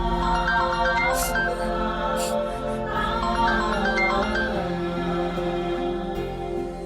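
A mobile phone ringtone plays as a steady, loud melodic electronic tune with sustained tones, continuing without a break and with no voices over it.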